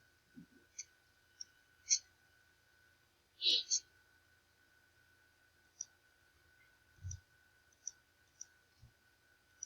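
Computer mouse clicks while opening a data file in SPSS, a handful of sparse, quiet, sharp clicks spaced irregularly against a near-silent background.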